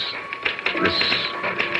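A typewriter clatters in a radio drama, rapid irregular key strikes in a steady run, close and fairly loud with no voices over it.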